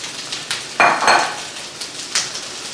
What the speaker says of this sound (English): listen to the sound of